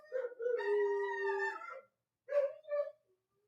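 German Shepherds howl indoors, one long layered howl that falls away, then after a short silence two brief, weaker howls that trail off into quiet.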